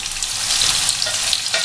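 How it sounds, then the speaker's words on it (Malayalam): Chinese potato masala sizzles steadily in a pan on the stove as it is stirred, a close, continuous frying hiss with soft scraping. "ഇനി ഇതെല്ലാം കൂട്ടി ഇളക്കി അടുപ്പത്ത് വെച്ച് വേവിക്കണം"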